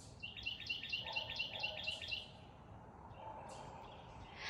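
Songbirds in a garden give a quick run of repeated bright chirps in the first half, then fainter scattered calls over a soft outdoor background.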